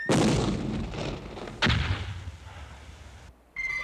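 Artillery fire in a TV adventure drama: two heavy booming shots about a second and a half apart, each with a long rumbling decay, loud and close.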